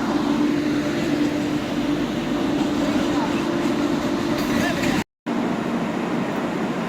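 Indian Railways WAP-7 electric locomotive 30742 of Howrah shed hauling the Sealdah–New Delhi Rajdhani Express, heard as a steady, loud rolling rumble with a constant hum, cut by one brief dropout.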